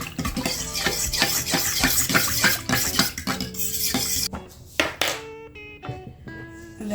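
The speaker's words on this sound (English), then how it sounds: "Stir that in." Salt stirred into oil and bread dough ingredients in a bowl, a rapid run of metallic clinks and scrapes from a spoon against the bowl that slows into a few separate ringing taps, close and alone.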